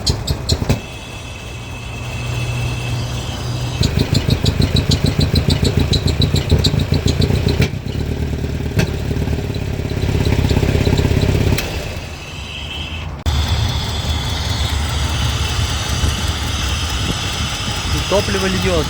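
A car engine with K-Jetronic mechanical fuel injection idles roughly and barely responds to the throttle, its uneven running and rhythmic pulsing continuing under a voice speaking Russian.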